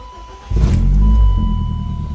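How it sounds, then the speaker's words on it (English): A BMW four-cylinder engine with a loud exhaust, manual transmission, cranks and catches, settling into a loud, deep idle rumble right up close. "It's a loud 4-cylinder because of the exhaust."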